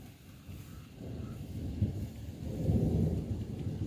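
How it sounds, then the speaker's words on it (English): Low rumbling thunder rolls through a hailstorm at a house, building over a few seconds into a louder, sustained roar, with steady rain and hail noise underneath. "Oh, I think we just saw some thunder."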